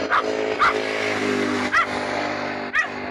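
A dog barks four times, spaced irregularly, loud and near, over a steady background rumble of traffic.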